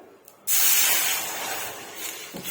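A glass of water hits a hot pan while making payasam, with a sudden loud hiss of steam that sizzles steadily and slowly eases, close and with no talking.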